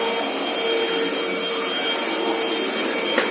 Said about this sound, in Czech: Tady už jsem dneska vysávala, takže tady to jenom pohoním.